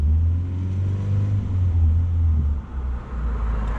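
Mitsubishi Mirage engine held at about 2000 RPM in park, a steady, loud low rumble that dips briefly near the end, with no talk.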